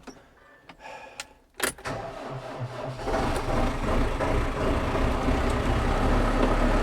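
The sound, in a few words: tractor engine warming up on a frosty morning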